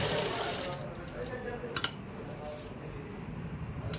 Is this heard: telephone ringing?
no